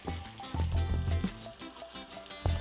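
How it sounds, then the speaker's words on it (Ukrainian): Meat seasoned with salt, pepper and ground paprika frying in a pan, a soft steady sizzle with occasional clinks and stirring noises, close and fairly quiet. "Смажимо майже до готовності."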